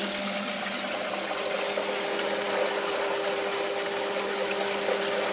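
Faulty sump pump running continuously with water flowing in from outside pipes, a steady loud rushing and hum without pauses.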